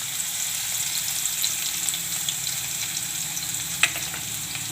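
Cumin seeds and green garlic sizzle steadily in hot oil for a carrot and pea shaak, a dense crackling hiss throughout with a few sharper pops and no voices.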